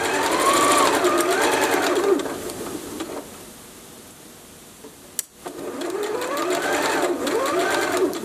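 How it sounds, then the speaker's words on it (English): Sewing machine stitching a pillow seam, a close whirring run of rapid stitches that pauses for a few quiet seconds and then starts up again, with faint birdsong in the background. "Turn and then start sewing the other edge."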